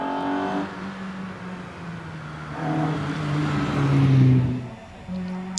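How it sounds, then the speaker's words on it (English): Jock Ramsey's orange Opel Manta hillclimb car at a British Hillclimb Championship event in Doune, its engine rising and falling in pitch as it revs and accelerates past, moderately loud, with a brief dip before the engine note returns. "Well-known Jock Ramsey in his well-known orange Opel Manta."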